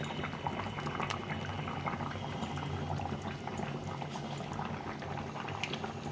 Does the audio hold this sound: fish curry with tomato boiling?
yes